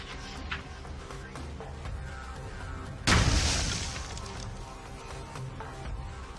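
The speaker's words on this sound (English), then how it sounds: "we got some pretty cool little explosions out of them" A single sharp, loud blast bursts out midway with a trailing roar, as AR-15 tracer rounds ignite a propellant target outdoors; steady background hum before and after.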